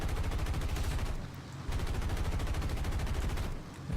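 Rapid aircraft machine-gun bursts from a PBY-5A in War Thunder, dense rattling fire in two long strings separated by a short pause, loud and close with no talking.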